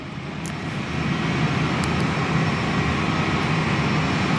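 A Qatar Airways Airbus A350-900 taxis toward the terminal at Perth Airport, its jet engines a steady, moderately loud roar that swells slightly, heard from an indoor viewing platform.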